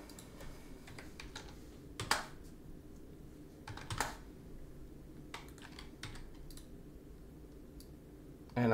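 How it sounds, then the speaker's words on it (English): Light, crisp keypresses on a computer keyboard, the S key tapped repeatedly in irregular single clicks, close and fairly quiet with no talking. "I'm just tapping S on my keyboard after I slightly move each one."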